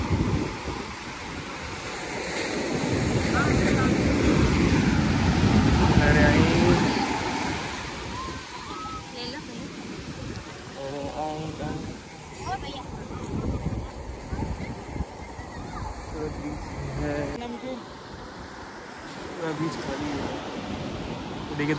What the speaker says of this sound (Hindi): इतना खूबसूरत बीच बढ़िया पानी ये लहरें हैं